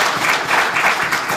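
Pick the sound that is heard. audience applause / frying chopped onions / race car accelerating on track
audience applause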